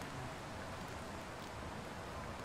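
Heavy rain in the survival game The Long Dark, a steady, dense hiss of downpour that stays loud and even the whole time, with no voices.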